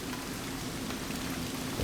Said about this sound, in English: now we are at another waterfall